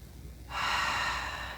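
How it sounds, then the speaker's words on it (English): During a yoga pose, a person takes a strong breath in through the nose, loud and close, and the sustained airy rush begins abruptly after a quiet moment. "Keep breathing."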